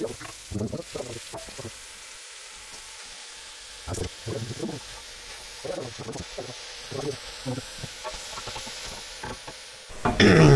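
Onions, garlic and zucchini being stirred in a cooking pot, giving repeated scraping and stirring bursts over a faint sizzle, close by, with a louder clatter at the very end.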